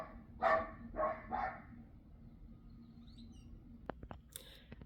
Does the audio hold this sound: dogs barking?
yes